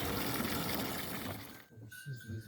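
Water gushes from a tap fed by an automatic pump at a cattle farm, a strong steady rush that suddenly cuts off, leaving a few soft low thumps and trickles.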